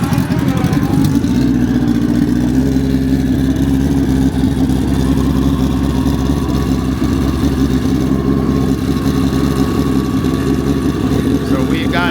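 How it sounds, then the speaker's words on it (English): A Pro Extreme drag race motorcycle at the Man Cup Finals fires up and runs loud and close, its engine droning steadily throughout with some rising revs, while a voice talks over it. "So we are getting ready to fire up Sean's bike again here."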